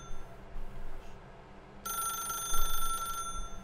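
A telephone rings in The Stanley Parable, first faintly and intermittently, then a loud bright electronic ring bursts in for over a second before stopping, with no voices.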